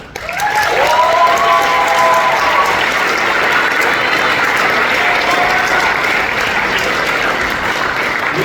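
Audience applause in a school spring concert hall welcoming a high school wind symphony to the stage, a dense, steady clapping that swells within the first second and holds loud and even throughout, with faint voices in the crowd.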